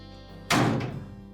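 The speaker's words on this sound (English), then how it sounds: "We'll close the dryer up" A single solid thunk as a Whirlpool dryer door shuts, close by, with a low mechanical hum beneath.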